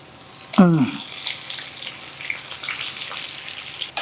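Mustard seeds, cumin, dried red chilies and onions fry in hot oil, a soft continuous sizzle with a short vocal sound near the start and small crackles throughout.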